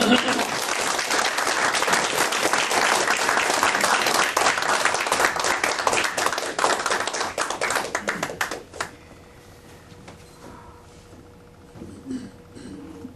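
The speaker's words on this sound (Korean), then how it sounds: "뜨거운 박수로 여러분이 오늘 강사 이맘님을 맞이해 주시기 바랍니다" A lecture audience gives an imam a warm welcome with loud, dense applause for about nine seconds, then it tapers off into quieter room sounds with scattered faint claps.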